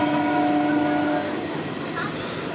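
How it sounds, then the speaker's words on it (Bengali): A train passes through a station platform with a loud, steady rumble and a sustained horn-like tone that fades after about a second, as a voice speaks over the noise. "ট্রেনটি ট্রেনটি পাস হয়ে গেল কিন্তু প্ল্যাটফর্ম খালি"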